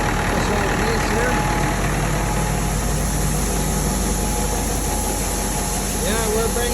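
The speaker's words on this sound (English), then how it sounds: "We're using a different auger and a different tractor." An old farm tractor idles at a wheat harvest with an auger, a steady broadband engine rumble that fills the whole clip at close range, with some talk in the background.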